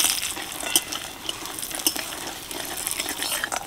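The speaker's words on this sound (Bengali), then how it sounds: "বড়িগুলোও ভালো করে ভেজে নিলাম," Lentil dumplings (bori) sizzle in a pan while being stirred, with repeated scraping and clinking of a utensil against the cookware over steady frying noise; no voices.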